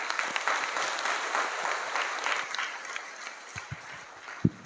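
Students and teachers at a school inter-house debate give a speaker a round of applause that is moderately loud and continuous, with a few louder knocks near the end.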